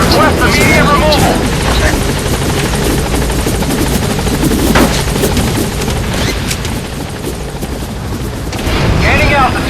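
Support helicopter in the video game Metal Gear Solid V arriving, a loud continuous rotor roar with scattered booms and bursts of gunfire layered over it, alongside brief radio voices.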